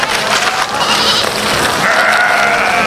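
Goats bleat repeatedly near a trash heap, several overlapping calls rising and falling close to the microphone, loud and steady with no talk.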